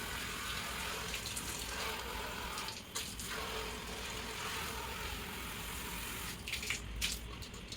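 Water runs steadily from a bathroom tap during cleaning of an old table fan, a continuous soft hiss and splash with a few brief clatters.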